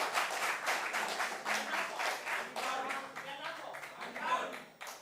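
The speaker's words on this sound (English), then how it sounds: "Round of applause." A small audience at a school quiz competition clapping, a light, loose patter of hands lasting several seconds, with voices audible beneath.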